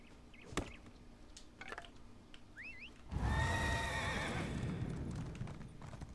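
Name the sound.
horse neighing in Elder Scrolls Online video game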